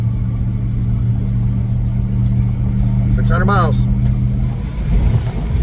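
A car engine bucks and surges on a highway, fuel starved from a dying fuel pump, its low rumble lurching unevenly beneath steady road noise while someone talks over it.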